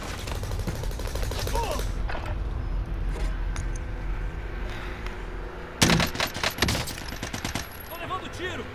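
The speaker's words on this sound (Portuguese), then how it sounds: "Tô levando tiro." Call of Duty: Modern Warfare gunfire crackles in bursts, with sharp automatic volleys, the loudest near the end, over a background of in-game rumble and mechanisms.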